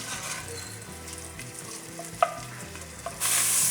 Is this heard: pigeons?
no